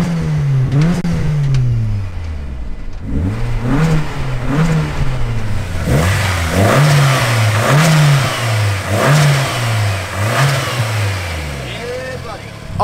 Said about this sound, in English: I'll give it a little rev so you guys can hear what she sounds like.